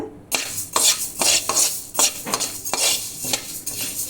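A spoon stirs and scrapes whole spices, including coriander seeds, dry-roasting in a hot pan for sambar powder, in a steady rhythm of close scraping strokes with a soft rattle and no talking.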